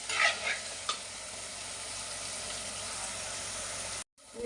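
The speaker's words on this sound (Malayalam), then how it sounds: "നല്ലതായിട്ട് ഇളക്കി കൊടുത്ത് നല്ലതായിട്ട് മൂപ്പിച്ചെടുക്കുക." Kottayam-style fish curry masala frying in a pan, a loud steady hissing sizzle with a few scraping stirs near the start, close up, cutting out abruptly near the end, no voices.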